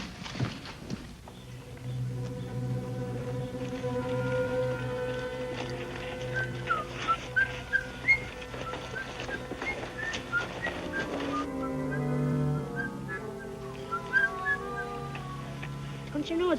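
A person whistles a tune in a deserted ghost town, the bright melodic notes weaving over a bed of music with light knocking sounds at moderate distance.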